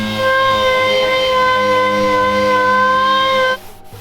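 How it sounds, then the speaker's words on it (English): A power sander works steadily on the cab corners of John Wayne's Ford truck, a loud, sustained high whine with a tonal hum that runs evenly for several seconds and then cuts off abruptly. "Now I'm just sanding it all up to where we can spread some fiberglass on it."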